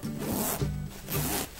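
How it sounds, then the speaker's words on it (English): Zipper pulled open on a plush bunny-shaped backpack, two or three close, rasping zip strokes in quick succession with no voices. "we gotta look for the zipper"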